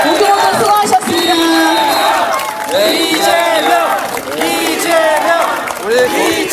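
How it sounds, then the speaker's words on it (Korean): A crowd at a political rally applauds and cheers for three candidates, a loud, sustained roar of clapping mixed with shouting voices and whoops that swells and dips in waves. "여기 계신 세 분의 후보자님들께 다시 한번 뜨거운 박수 부탁드리겠습니다"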